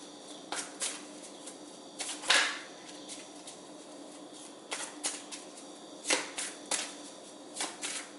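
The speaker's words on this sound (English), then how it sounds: "Just shuffle a few more times." Tarot cards are shuffled in short riffling bursts, close and fairly quiet, with pauses between each shuffle and no talking.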